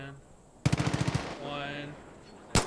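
Automatic gunfire in Far Cry 5 multiplayer: a short rapid burst of about eight shots, then a lingering ringing tail, and a single loud blast near the end, all close and loud.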